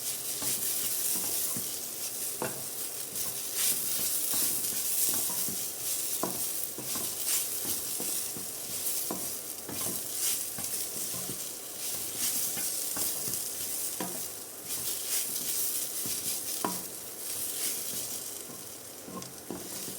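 A spoon stirs ridge gourd peel curry with garam masala in a hot pan, a continuous sizzle broken by regular scraping strokes and occasional metallic taps against the pan, with no talking.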